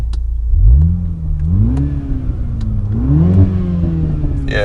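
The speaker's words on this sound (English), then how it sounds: "you can already hear the engine and you can already hear the exhaust in this car" A 2018 MINI Clubman JCW revs in neutral in sport mode, close and loud, with two rising throttle blips whose engine and exhaust pitch climbs and settles back to a steady idle.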